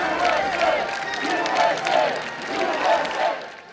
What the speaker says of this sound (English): the crowd chanted, USA